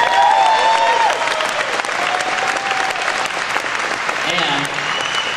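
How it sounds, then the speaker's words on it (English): An audience at a company event applauds, a dense, loud wash of clapping from a large crowd that holds steady throughout, with a voice speaking over it and some cheering mixed in. "Let's give him a round of applause."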